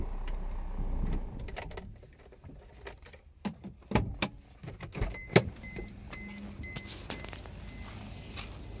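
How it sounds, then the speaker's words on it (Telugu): Power windows on a 2014 Maruti Ertiga diesel, parked with the engine idling, whir in short motor runs, mixed with sharp clicks and knocks of switches close by under a low idle hum. "ఇప్పుడు 4 పవర్ విండోస్ వర్కింగ్ అండి."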